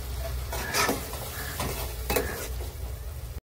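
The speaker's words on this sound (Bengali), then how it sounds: "এবার আমি কড়াইশুঁটিটা দিয়ে দেবো এর ভিতরে।" Peas sizzle in hot spice masala in a wok while being stirred, a steady frying hiss broken by a few scraping strokes of a spoon against the pan, all close and moderately loud.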